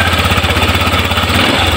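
A Honda Click scooter, just fitted with a new fuel pump and O-ring, fires up and idles close by with a loud, rapid, chugging engine putter that stays steady throughout.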